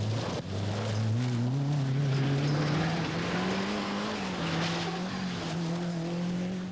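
A rally car on a forest stage of the 1987 Lombard RAC Rally, its engine droning loud and steady throughout, the pitch climbing slowly and then holding, with tyre and gravel noise underneath.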